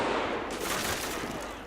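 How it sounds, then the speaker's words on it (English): Machine gun fire in the WWII Normandy combat game Combat Mission, a dense continuous crackle of distant automatic bursts filling the whole stretch with no speech. "I'm hearing an MG."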